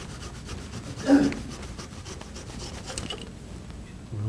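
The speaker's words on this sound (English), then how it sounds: "And just saw that thing off." Quiet, steady rasping strokes of a small flush cut saw cutting through a twig, close by, with one slightly louder scrape early on.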